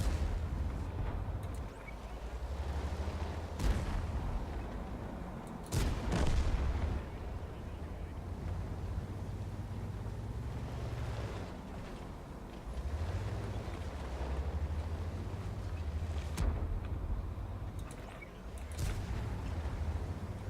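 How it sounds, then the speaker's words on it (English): Artillery shells strike a tank in World of Tanks, the Strv 81 (Primo Victoria), as several sharp booming impacts spread across a steady low engine rumble, loud and close, with no talking. "Hit by the artillery."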